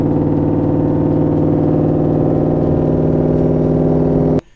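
A Ford Mustang GT exhaust drones at a steady low, loud hum, constant rumbling pitch held for several seconds before cutting off abruptly.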